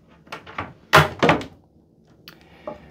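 A deep drawer in a Celebrity Reflection balcony cabin on a cruise ship sliding open, giving a few soft wooden thumps and rolling knocks, the loudest pair close together in the middle, with faint rustling before and after.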